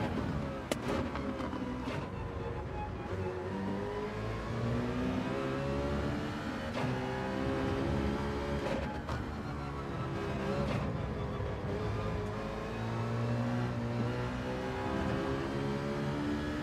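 A Citroen race car engine drones loudly and continuously in Gran Turismo 7, its pitch rising and falling through gear changes, with sharp clicks and bangs scattered throughout and no talking.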